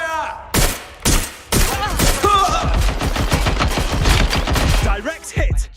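Video game gunfire in Watch Dogs Legion: loud, close bursts of rapid automatic shots and separate single cracks, packed together in a dense fusillade, with brief gaps between volleys.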